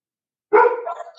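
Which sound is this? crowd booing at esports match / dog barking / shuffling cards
dog barking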